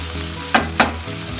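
Onions fried with ginger garlic paste crackle steadily in a pan while two quick spoon strokes scrape through the mix, close and distinct.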